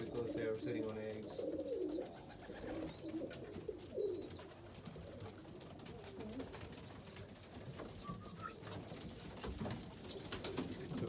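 Pigeons in a home loft, some sitting on eggs, coo softly in low, repeated rolling calls, fairly quiet and close, with occasional rustling and a voice talking in the background.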